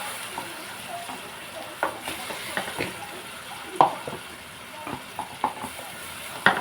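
Frying onion pieces sizzle softly as a ginger, tomato and onion paste goes in, with intermittent stirring clatters and scrapes in a pan, close and moderately loud, with no talking.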